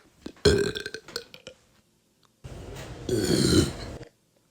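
Two loud, long burps up close, the first rough and broken, the second a deep sustained croak after a short pause.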